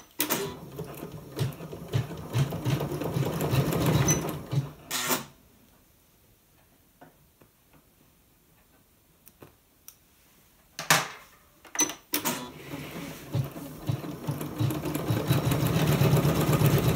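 A ScanNCut embroidery machine stitches black thread on an appliqué coaster with a steady, close mechanical whirring and needle chatter. It pauses for several seconds in the middle, then resumes. No one speaks.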